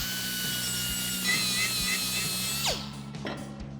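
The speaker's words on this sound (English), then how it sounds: "We're going to grab ourselves a whiz wheel. We're going to clean up any burrs" A whiz wheel cut-off tool deburring the cut end of an aluminized exhaust pipe on a RAM 1500, giving a steady high-pitched grinding whine with a short louder scrape near the end before it spins down.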